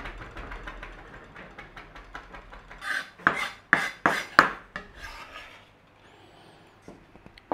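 Kitchen knife mincing herb leaves on a board, a run of quick, close scraping chops that grow louder in several strong strokes, then fade to quiet.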